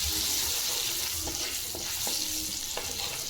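Cumin, mustard seeds, chopped garlic, coriander, red chilli, turmeric and kitchen king masala sizzling in hot oil as a tempering for spinach curry, a dense steady frying hiss with faint stirring clinks, close, no talk.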